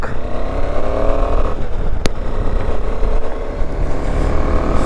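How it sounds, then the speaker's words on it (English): A KTM 250 Adventure motorcycle pulls away with a loud, close, rumbling engine note that builds unevenly, with a brief sharp click partway through. "I've swapped the bike and I'm right now on KTM 250 Adventure. So off the mark."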